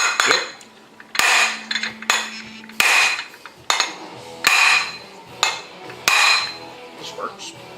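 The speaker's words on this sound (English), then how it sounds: "we're going to give it a big whack with the hammer, and that will separate." Repeated hammer blows ring out against a Can-Am X3 clutch being knocked apart, about eight sharp metallic strikes spaced irregularly, each with a bright clanging ring that decays before the next, close and loud.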